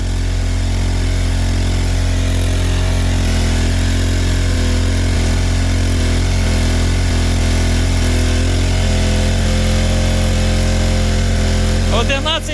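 A Black & Decker 2200 W generator runs under heavy load with a loud, continuous engine drone and a steady low hum, briefly interrupted near the end by a clattering sound.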